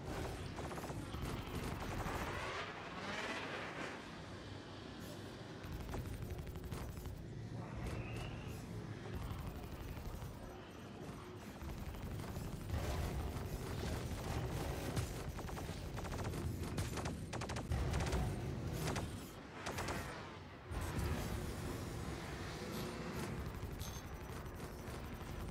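Rapid gunfire crackles in the Star Citizen space game while a ship takes heavy fire, dense bursts layered over a steady engine-like roar, moderately loud throughout.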